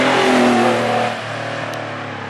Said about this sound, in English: Third gear, high-speed pass.